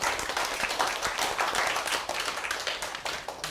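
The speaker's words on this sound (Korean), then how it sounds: "박수!" A room of high school students at Jeju High School claps together in dense, lively applause that holds steady for a few seconds with no talking over it.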